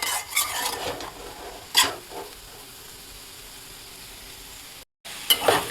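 Potato fry being stirred in a pan: a few quick spatula scrapes over a faint, steady sizzle, with a brief drop to silence near the end.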